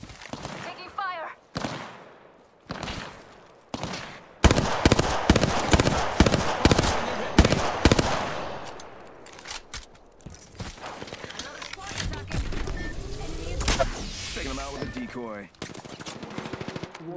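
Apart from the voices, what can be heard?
gunfire in a video game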